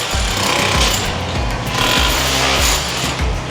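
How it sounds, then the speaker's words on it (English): Power drill hammering into a ceiling or wall to channel out for electrical wiring on a house build site, loud continuous juddering with short pauses, close by and without speech. "Drilling like crazy."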